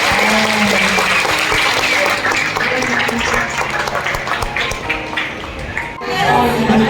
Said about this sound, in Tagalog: isang malakas pong palakpak para sa kanila